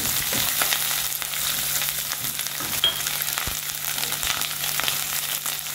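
Onions with green chillies sizzle steadily in hot oil for a restaurant-style mutton biryani, a continuous close frying hiss broken by occasional soft scrapes of stirring, with no talking.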